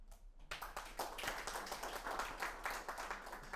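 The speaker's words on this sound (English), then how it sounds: "we'll give Dr. Kuyah a round of applause" Audience applause for a guest speaker at an agroecology talk, starting abruptly after a brief quiet moment and continuing as a lively patter of individual claps from a modest crowd.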